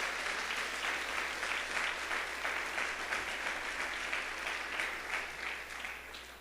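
A church congregation gives a strong round of applause as an offering of praise during a sermon on baptism in the Holy Spirit, a dense, sustained wash of many hands clapping that fades slightly at the end.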